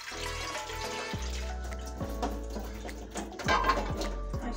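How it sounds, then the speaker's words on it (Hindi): A little water is poured into a frying pan in a home kitchen, a close, continuous trickling splash that lasts several seconds with a few heavier glugs, without any talking. "और इसमें थोड़ा सा डालेंगे पानी"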